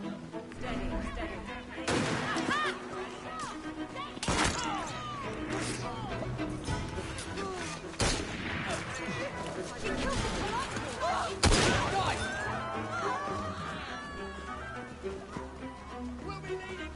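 Gunshots crack out repeatedly during a street fight in Assassin's Creed Syndicate, sharp loud reports spaced a few seconds apart amid shouting voices and game action.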